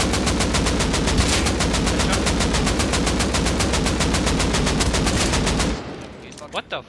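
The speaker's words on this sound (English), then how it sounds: "My AK just shot 60 bullets." An AK rifle in a video game fires a long, rapid automatic burst of loud, evenly spaced shots that stops abruptly, followed by a few brief quieter sounds.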